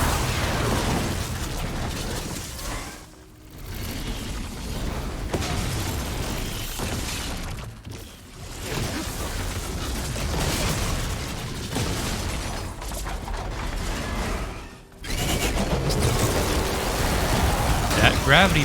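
The Behemoth machine in Horizon Forbidden West unleashes its Gravity Purge attack, a dense roaring, grinding blast of mechanical noise and bursts that surges continuously with brief dips, loud and close.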